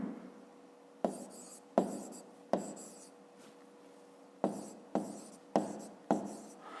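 A pen scratches numbers onto paper in short, close bursts, about eight strokes with pauses between them, quiet and alone.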